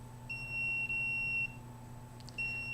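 A handheld detector's alarm beeps in two long high-pitched tones, then a third starts, each clear and close over a steady low electrical hum with no talking.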